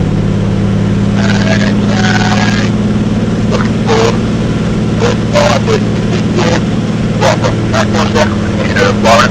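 De Havilland Beaver aircraft engine at takeoff, a loud steady drone with strong low harmonics running unbroken throughout, while someone talks intermittently over it.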